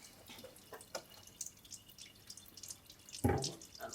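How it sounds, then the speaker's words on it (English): Tap water running over an aquatint etching plate being rinsed at a sink, soft splashing and dripping with scattered small impacts and a louder gush near the end, quiet and close. "And rinse, give it a good rinse."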